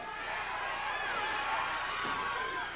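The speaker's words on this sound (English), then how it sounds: "The crowd is not happy." A wrestling crowd at a 1987 Stampede Wrestling match fills the hall with a steady, dense roar of voices and jeers, continuous and fairly far off.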